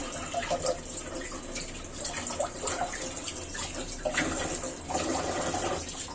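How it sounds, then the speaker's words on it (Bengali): Running water from a kitchen tap splashes steadily over hands being washed, a continuous hiss with faint splashy bursts and no talking. "হাতটা একটু ধুয়ে নিচ্ছি"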